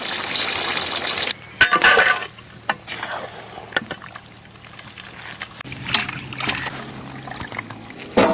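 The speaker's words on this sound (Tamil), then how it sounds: "தண்ணி சேர்த்துக்கலாம்." Water poured into a pot of dry ribbonfish curry with tomato and chilli powder in an outdoor village kitchen, splashing and trickling in a few separate bursts between quieter pauses.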